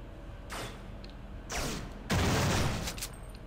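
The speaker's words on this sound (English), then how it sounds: "What is shooting me?" In the video game System Shock 2, gunfire aimed at the player comes as three bursts of fusillade-like shots, each sharp crack trailing into a noisy decay, the last the loudest and longest.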